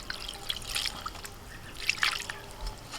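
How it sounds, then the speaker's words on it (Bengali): Cold water runs over freshly made chhana cheese curds as they are rinsed, giving close, faint trickling and dripping with a few louder splashes. "ঠান্ডা জল দিয়ে ছানাটা ধুয়ে নিচ্ছি"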